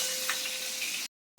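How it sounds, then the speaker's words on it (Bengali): Five-spice, bay leaf and green chilies fry in fish oil in a pan, giving a steady close sizzle for about a second before cutting to silence. "এবারে ওই মাছের তেলে আমি কি করব, পাঁচফোড়ন দেব, তেজপাতা দেব, দুটো কাঁচা লঙ্কা দেব"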